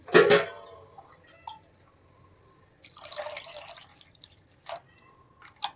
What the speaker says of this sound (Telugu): కావలసిన వాటర్ అయితే వేసుకోవాలి